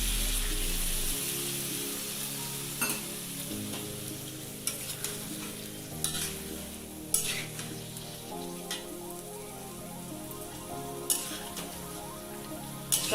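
Chicken fries with onion, garlic, ginger and green chili paste while being stirred in a pan. A steady sizzle runs throughout, with intermittent scraping clicks from the spoon, close and alone.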